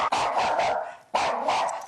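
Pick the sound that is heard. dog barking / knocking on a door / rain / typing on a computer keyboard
dog barking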